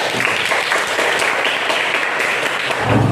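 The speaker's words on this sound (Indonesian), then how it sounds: "Aplaus untuk kalian, tepuk tangan untuk kalian." Students in a classroom give steady, dense applause, a continuous wash of clapping that holds for a few seconds with no talk over it.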